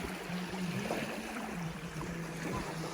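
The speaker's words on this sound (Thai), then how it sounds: "ตอนนี้ขึ้นลมแรงมากเลยนะครับ" Strong wind gusting and waves lapping against a boat while fishing on a dam reservoir, a steady close rushing wash with low rumbling buffeting throughout.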